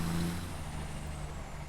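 A truck drives in the video game Satisfactory with a steady low engine drone and a faint high whine above it. The sound stays near and even throughout, with no talk.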